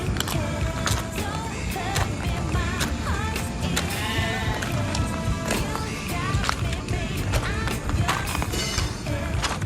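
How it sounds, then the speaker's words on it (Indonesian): Merino sheep bleat repeatedly in a farm pen, several overlapping calls near and loud above a steady rumble of background noise and movement. "Di sini ada beberapa domba merino ya."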